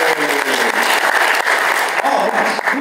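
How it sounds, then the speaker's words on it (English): Loud, dense applause from a fan convention panel audience, a continuous close wash of clapping lasting a few seconds with faint crowd noise mixed in. "Round of applause for the first question."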